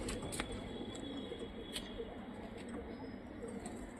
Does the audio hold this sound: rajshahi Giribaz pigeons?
yes